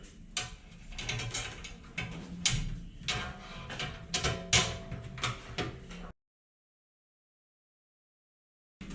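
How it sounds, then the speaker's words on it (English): Bolts tightened with a ratchet while assembling an MRX/Racetech NZ sim racing chassis: rapid, close metallic clicking in uneven bursts for several seconds, then silence before a brief return. "We're going to start by bolting those ones through."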